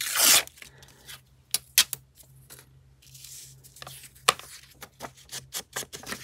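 Paper being torn by hand at a desk during a stack-challenge craft session, with sharp irregular rips and crinkles separated by pauses, close and fairly quiet, over a low steady hum.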